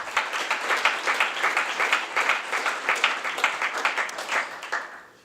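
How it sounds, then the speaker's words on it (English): Audience applause after the finalists are announced at a startup demo day event, dense steady clapping from a sizable crowd that holds for several seconds before tapering off at the end. "A big round of applause for all of our finalists."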